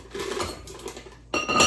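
A glass jar clinks and clatters as it is handled in a home kitchen to hold bread flour, with a few soft knocks followed by a louder, brighter rattle of glass near the end, close and without speech.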